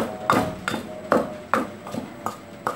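Dried mackerel powder is pounded in a mortar with a steady series of about seven dull, thudding strikes at a regular rhythm, close up and moderately loud, with no talking.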